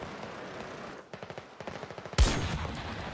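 Automatic gunfire from Battlefield 2042 rattles in a fast, evenly spaced burst, then gives way to a loud blast and a sustained roar of battlefield noise. No voices are heard.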